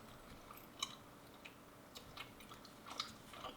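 Faint, close chewing of a gummy candy shaped like salad or cheese, with soft sticky squishes and occasional small bites over a quiet background.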